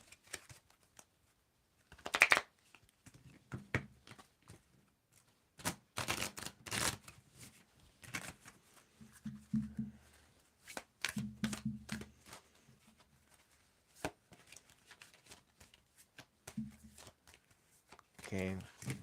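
Tarot cards shuffle in short, papery bursts between stretches of talking, the riffles close and crisp, separated by pauses.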